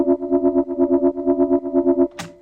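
Loud synth from Serum with reverb and a stereo widener in a Skrillex-style dubstep remake, a distorted, chorused tone pulsing in rapid even repeats, ending in a short noisy burst.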